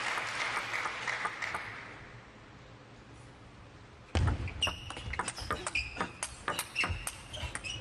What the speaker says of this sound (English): the knowledgeable audience give him a round of applause for that.